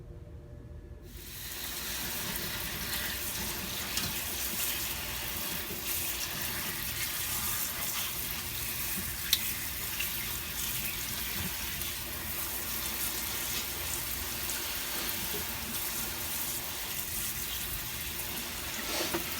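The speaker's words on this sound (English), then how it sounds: "I think it'll be easier to just wash everything really good in the strainer" Tap water runs steadily through a strainer of celery being washed in a kitchen sink, a continuous close, even hiss and splash that starts after a moment of quiet and keeps going without talk.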